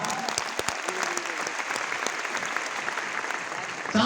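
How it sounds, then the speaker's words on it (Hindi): Loud, dense applause from a large crowd at a Bihar celebration event, a steady continuous roar of clapping held evenly from start to finish. "मिस्टर संजीव सर के बाद जोरदार ताली।"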